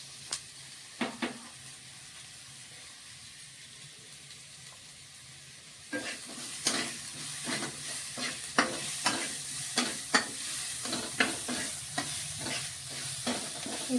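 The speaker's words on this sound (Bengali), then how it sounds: "পেঁয়াজটা ভাজা ভাজা হয়ে গেছে" Onions sizzling steadily in a pan, quiet at first with a few clicks, then busier after a few seconds with repeated close scrapes and clatters of a spatula stirring, no voices.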